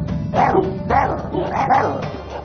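Tibetan mastiffs in an animated film bark repeatedly before a fight, three or four loud close barks in an uneven rhythm against a faint background murmur.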